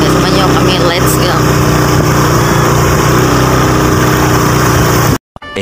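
A motorcycle engine runs in a steady close drone with a rough, throbbing idle-like tone and wind noise, continuing for several seconds before cutting out abruptly, with voices mixed in.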